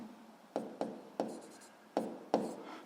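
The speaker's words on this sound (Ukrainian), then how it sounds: "Давайте я тут напишу." Chalk or pen writing out a physics calculation on a board during a lesson, heard as five or six distinct taps and strokes spaced irregularly, fairly close with quiet room tone in between.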